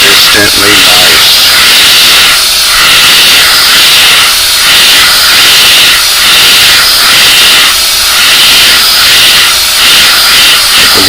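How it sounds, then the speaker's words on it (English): An airbrush sprays paint during a restoration of a vintage 1970s Natural Ike, giving a loud, steady, close hiss of air that runs without a break. "Warming this airbrush up for a little while to make sure I was able to do this."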